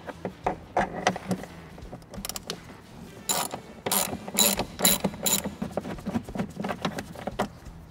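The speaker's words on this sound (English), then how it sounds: "Now we remove two 8mm bolts that are holding the fan shroud on." A ratchet loosens 8mm bolts on a Ford F-150 fan shroud, giving close, repeated bursts of rapid metallic clicking, each run of pawl clicks followed by brief pauses.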